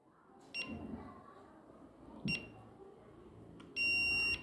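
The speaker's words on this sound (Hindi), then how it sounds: "जैसे ही लंबी बीप आ जाती है तो दैट मीन्स कि आपका जो है वो एडमिन रजिस्टर हो गया है" A ZKTeco X6/X7 or UFX-60 biometric access control keypad gives a few short electronic beeps, then one longer steady beep confirming admin registration, clear and close over a faint room hum.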